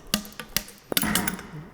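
Metal tapping and knocking from a slide-hammer-style pull separating the two fork halves of a Harley-Davidson Sportster chopper, a few sharp clanks followed by a short scraping clatter, close and fairly quiet.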